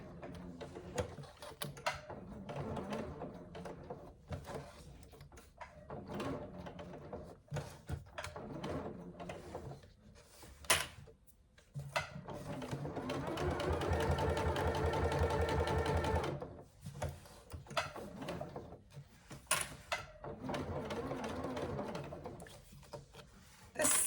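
A sewing machine stitches through cotton handbag layers in several bursts, the longest a steady whirring run of a few seconds, with quieter handling and fabric rubbing between runs and no talk.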